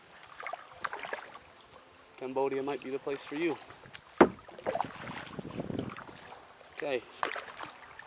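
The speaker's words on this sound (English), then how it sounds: "just kayaking down a river" Kayak paddling down a quiet river in Cambodia, with soft intermittent paddle splashes and water sounds against a hum of insects, while a person speaks in short bursts over the scene.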